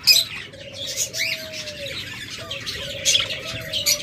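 Rainbow budgerigars chirp and twitter in a cage, a steady busy chatter of several birds close by, with sharper high calls bursting out near the start and again toward the end.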